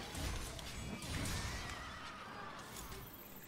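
A horse-like creature calls in the video game Monster Hunter World Iceborne, a loud neighing whinny over a noisy game soundscape with some hoof-like clatter.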